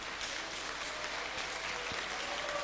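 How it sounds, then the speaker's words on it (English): A large audience applauds in a conference hall, steady dense clapping filling the whole stretch at an even level with no voices over it. "Please join me to applaud Iceland, which legalized gay marriage last month, to applaud Argentina"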